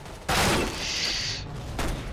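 A burst of gunfire in Counter-Strike: Global Offensive, a sharp loud onset followed by a sustained roar of shots, then a second crack near the end.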